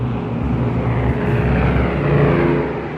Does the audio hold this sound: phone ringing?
no